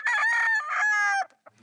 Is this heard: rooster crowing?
yes